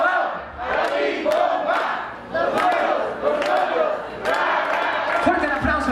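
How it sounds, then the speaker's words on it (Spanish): Wedding celebration crowd shouting a rhythmic group cheer for the newlyweds, loud massed voices chanting together, with an MC's voice mixed in. "Y a la cuenta de tres, una porra para los novios"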